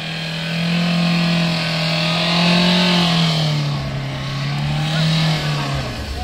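A car rolls along a snowy road near Shimla, its steady mid-pitched engine drone holding close and even from start to finish, with faint voices barely present under the hum.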